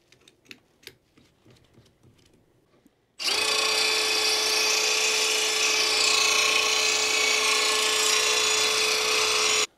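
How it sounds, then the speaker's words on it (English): A power drill with a brush attachment cleans lawn mower blades, whining loud and steady for several seconds after a few quiet handling knocks and clicks at the start. "So much easier with the drill."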